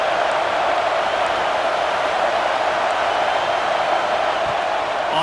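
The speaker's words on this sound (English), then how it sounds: "Listen to this crowd just shaking the girders of this place" A football stadium crowd roars to back its defense, a dense, constant wall of cheering noise that holds steady throughout.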